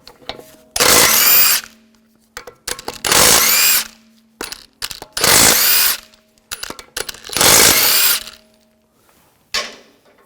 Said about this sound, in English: take the lug bolts off.